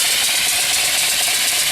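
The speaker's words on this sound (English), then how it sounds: "Engine runs really sweet." A small steam engine runs on a boiler holding about 60, with a temporary exhaust pipe fitted, giving a loud, steady, dense rushing chuff with a constant rattle throughout and no voices.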